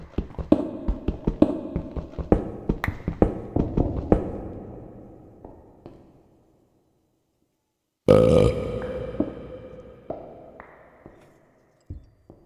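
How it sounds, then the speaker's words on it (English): A series of short, sharp burp-like bursts comes in irregular quick succession, then fades into silence before a louder, longer burst returns with a ringing tail, set within a Minecraft game. "The burp?"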